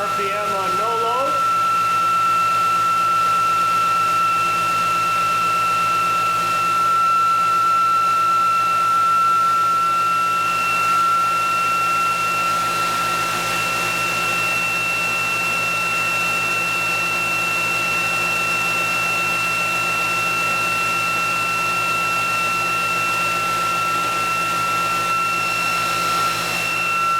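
A ReGenX Quantum Motor drives a ReGenX generator charging a battery at about 3,376 RPM, giving a constant, steady electrical hum and whine with high tonal lines that holds unchanged from start to finish.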